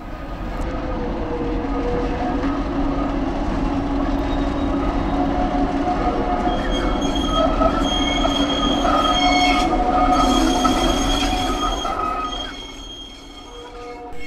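The Bhakra railway train running between Nangal and Bhakra Dam rumbles loudly and continuously, with wheels squealing and metallic screeches rising over the steady rolling noise before it eases near the end.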